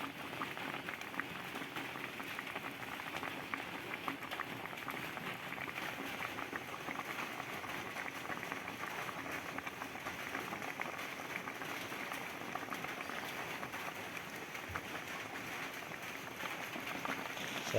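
Small river fish, seluang, simmering in a bacem spice broth with village seasonings, a steady, even bubbling and hissing that holds at moderate level without a break and with no voices.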